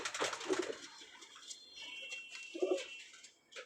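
A restless pigeon, a household bird with stone-coloured eyes, gives a couple of soft low coos close by, with light fluttering and ticking movement in between and no talking.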